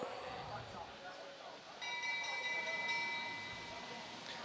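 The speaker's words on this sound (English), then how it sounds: "So as the bell goes for the first lap" A bell rings for the first lap of a track cycling elimination race at a national omnium championship, its steady tone sounding beneath crowd and arena noise from partway through.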